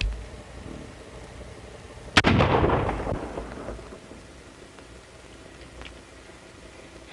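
A single sharp report from a revolver fired in a 1933 western film rings out, followed by a rumbling, decaying echo over a hissy old soundtrack.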